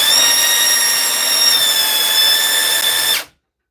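A battery-powered Mellif brushless sander whines at a steady high pitch, loud and close, then spins down and cuts off abruptly near the end, leaving silence.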